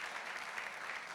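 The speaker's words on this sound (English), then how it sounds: "Keep the round of applause going for Rob" An audience applauds for a speaker named Rob at the live-streamed Courageous 2018 event, steady dense clapping filling the whole short stretch at moderate distance with no voices over it.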